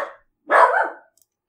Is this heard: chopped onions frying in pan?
no